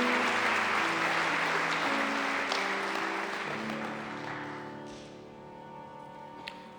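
Commencement ceremony audience applauding, a dense crowd clapping that starts loud and gradually thins and fades over several seconds.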